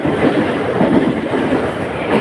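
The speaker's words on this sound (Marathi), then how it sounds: "आता चाललो आहे ट्रेनने घरी" Passenger train running steadily on rails, a continuous loud rumble with rhythmic clatter from the wheels, heard from inside a carriage with no talking.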